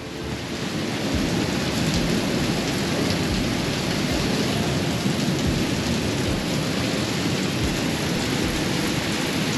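Heavy thunderstorm with steady loud rain pouring down and deep rumbling thunder rolling continuously throughout, close and dense, with no voices.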